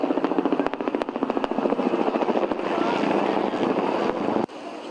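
A state police helicopter passes over a city centre with a loud, close rotor chop, its rhythmic beating merging into a steady engine roar before a sudden drop.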